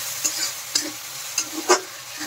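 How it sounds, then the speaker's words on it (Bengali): Crushed garlic, crushed ginger and two bay leaves fry in hot oil in a pan, a steady sizzle broken by four or five sharp stirring clacks and scrapes, close and clear with no voices. "এখন এই মশলাগুলো আমি ভালো করে ভেজে নেব"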